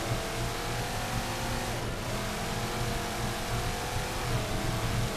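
A Warthog vehicle's engine drones steadily as it drives through the Requiem level of Halo 4, a continuous close motor hum with slight pitch swells and no speech.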